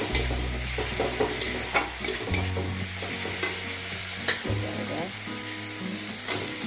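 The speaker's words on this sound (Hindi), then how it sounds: "कद्दू डाल लिया, कद्दू डाल लिया और बैगन भी डाल दिया।" Pumpkin and eggplant fry in spiced masala in a pan, with a steady close sizzle under repeated scraping stirs and a low background hum, no voices.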